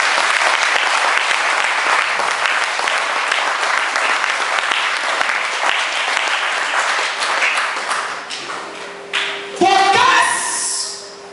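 A church congregation bursts into loud sustained applause and cheering to acclaim the Lord, dense clapping that fades out near the end as a voice speaks.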